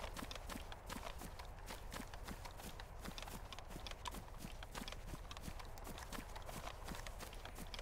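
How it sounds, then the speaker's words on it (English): A cow in the video game DayZ chases the player, its hooves drumming in a quick, even clip-clop run that stays faint and steady throughout. "Got a cow chasing me."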